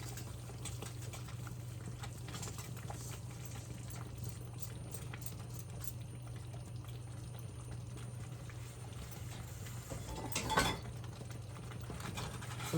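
Jollof rice simmering in a pot on the stove, a steady low bubbling hum running throughout with faint utensil clinks and a brief louder clatter near the end.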